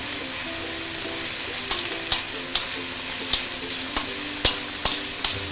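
Fish pan-frying alongside ginger sautéing in hot oil, a steady dense sizzle with a utensil tapping or scraping the pan roughly every half second, close and loud, no voices.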